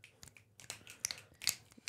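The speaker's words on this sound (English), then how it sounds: "Synchronize with our snaps." Finger snapping, several sharp, quiet clicks in an irregular sequence, close and dry with no talk over them.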